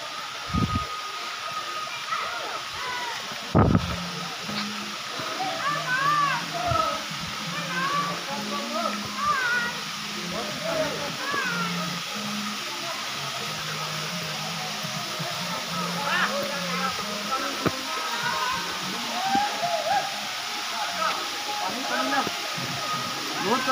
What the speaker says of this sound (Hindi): वो रहा झरना, देखिए